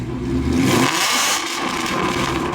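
A 2018 Mustang GT revs loudly through a full Corsa exhaust. A deep, close rumble swells, then drops back to a steady mid-pitched drone, with no talking.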